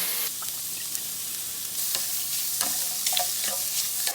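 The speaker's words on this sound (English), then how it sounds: "we're just going to saute this for about 1 to 2 minutes" Something sautéing in a pan for seafood enchiladas sizzles steadily and close, with a few scrapes and stirring knocks over a constant frying hiss, no voices.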